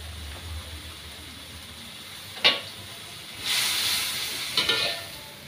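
Bean sprouts hit a hot pan and sizzle, a steady hiss rising after a couple of sharp clatters, with short bursts of frying noise as they are tossed. Close and fairly loud, with no talk.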